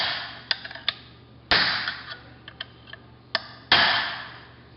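A small ball peen hammer taps a transfer punch down into five holes, giving sharp metallic clicks of varying force, mostly light taps with a few harder ringing strikes, over a steady low hum.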